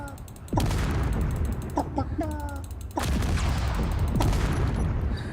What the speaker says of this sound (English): The explosions are just way over the top.